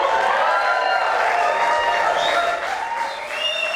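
Audience applause filling a theater during a jingle contest in northeast Minneapolis, a dense, steady wash of clapping and crowd noise sustained loudly throughout, with a slight dip toward the end.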